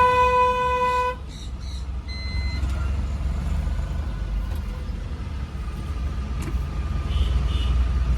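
Busy Indian road traffic with car horns, a steady engine rumble of passing cars and trucks, opening with a long honk followed by shorter scattered toots.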